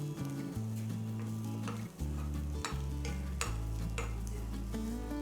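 Dry chutney ingredients for vada pav fry in a pan with a quiet sizzle and repeated spatula scrapes and knocks, partly covered by prominent background music.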